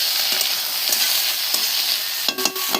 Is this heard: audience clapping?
no